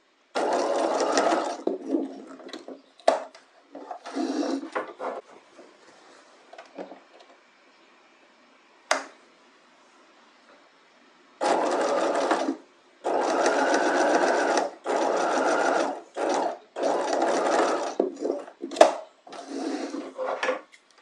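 A sewing machine stitches down the tops of fabric knife pleats with back-tacking, running in several bursts of steady whirring, some short, some several seconds long, separated by quiet pauses and brief clicks of handling.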